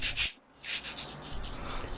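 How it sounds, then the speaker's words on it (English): Steady rasping strokes of sandpaper rubbing on a wooden model boat, close by, with a brief pause before the scratching resumes continuously. "So I'll just continue sanding this back"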